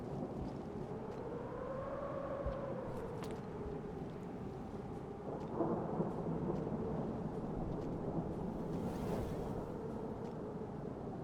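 Low rolling thunder rumbles continuously over a steady wash of rain in the video game Rain World, with a deep wavering drone underneath; no voices.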